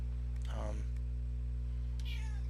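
A pet cat lets out two annoyed meows, the first drawn out and the second shorter and rising, heard close over a steady low electrical hum.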